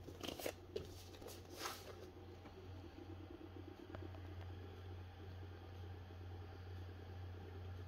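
A Seagate hard drive runs with a steady low electrical hum and faint whirring, with a few brief clicks and rustles near the start before the hum continues evenly at low level.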